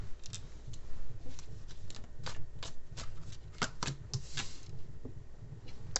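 Tarot cards being shuffled by hand, a steady run of soft riffling flicks and slaps lasting several seconds, close and fairly quiet with no talking.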